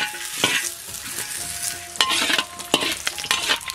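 Fat heats over a strong flame in a pot for frying crucian carp, giving a soft, steady sizzle broken by sharp clanks and scrapes from a utensil at irregular moments.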